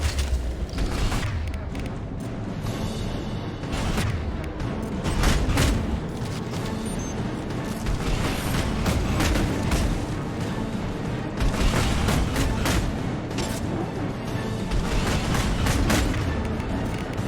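Gunfire and explosions in Mass Effect 2 aboard the Collector ship: a dense, continuous wash of shots and booms at steady high loudness with repeated sharp bursts and no clear gaps.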